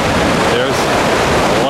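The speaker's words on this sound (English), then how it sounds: "Here's the falls when they first start." Spokane Falls roar loudly as spring runoff pours through the river, a close, heavy rushing wash of water with a slight wind rumble and no pauses.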